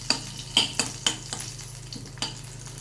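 Mustard seeds, garlic and a dried red chilli tempering in hot oil for an idli breakfast, a steady soft sizzle broken by a string of sharp pops and spatters at irregular intervals, close up with no voices.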